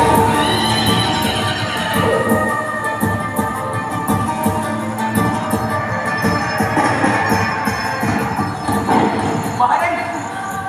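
A horse neighs loudly and repeatedly over a dense, busy background, with drawn-out whinnies rising above other noise near the end.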